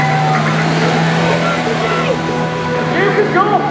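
A monster truck rumbles at an outdoor stunt show, its engine rising and falling as it speeds up and slows, with loud crowd and announcer noise over it.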